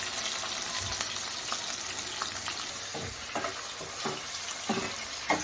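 Onions, green chili and ginger paste frying steadily in a pan, a continuous close sizzle with a few light stirring scrapes, no voices.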